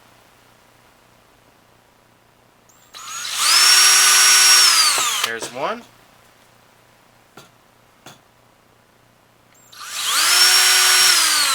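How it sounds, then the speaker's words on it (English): A small power drill with a 1/16-inch bit whirs into wood up to a steady high whine for a couple of seconds, stops, then runs again briefly; a short remark is spoken in between. "And we'll go ahead and drill that"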